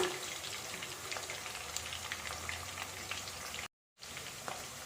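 Chicken pieces for chicken pickle crackle and sizzle steadily in hot oil, a dense continuous fry heard close and alone, broken by one brief silent gap near the end.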